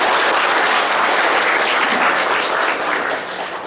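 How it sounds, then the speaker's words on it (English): Audience applause after a presentation and book release at a seminar, loud continuous clapping from a large crowd, steady and close, easing slightly at the end. "Huge round of applause, ladies and gentlemen."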